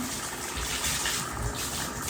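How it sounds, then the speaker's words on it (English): Water runs steadily from a bathroom tap in a master bathroom being cleaned, a close, continuous gushing hiss with no talking. "Turn the water on and I'm gonna wet it."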